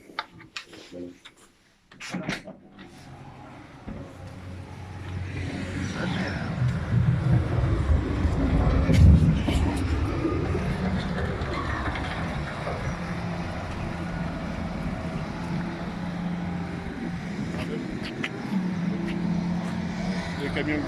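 Heavy trucks pulling in at a rubble and demolition debris sorting site in Meaux, a low engine rumble building after a brief quiet and holding steady throughout, with people talking nearby.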